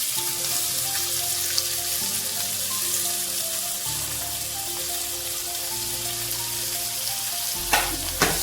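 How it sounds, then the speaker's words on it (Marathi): Onion frying in a pan, a loud, steady crackling sizzle close by, with a couple of sharp clatters near the end and no speech. "कांदा टाकून घेऊ."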